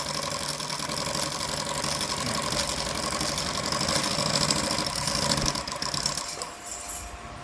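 Sewing machine fitted with a pleating foot stitching pleats into fabric, a steady close mechanical whir with a fast regular chattering beat running continuously, easing off near the end.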